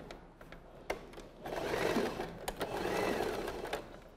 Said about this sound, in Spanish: Entonces voy a coser los costados y empezando desde la sisa